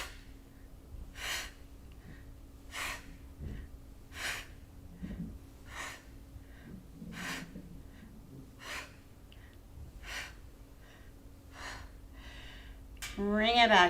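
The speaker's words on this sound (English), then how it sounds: "Inhale, center, forceful exhale." Sharp, forceful exhales through the nose during a yoga breathing exercise, repeated in a steady rhythm about every second and a half, close and fairly quiet, with a soft voice briefly audible near the end.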